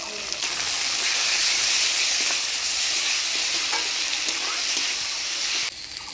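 Ground spice paste with turmeric and salt sizzles loudly and steadily in a pan for a village-style mutton curry, a dense continuous frying hiss that dips slightly near the end.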